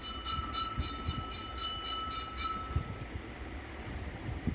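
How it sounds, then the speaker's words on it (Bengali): Kolkata metro train running toward Howrah, heard as a low continuous rumble with a rhythmic high clinking that stops partway through. "হাওড়া যাওয়ার মেট্রোটা আসে।"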